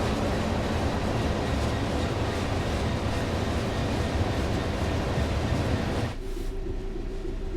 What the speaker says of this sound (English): Is that the class 66 you're driving?